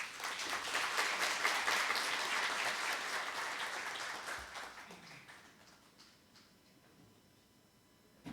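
An audience at a university president's farewell ceremony breaks into steady, dense applause to welcome the next speaker, holding loud for several seconds before fading gradually toward quiet.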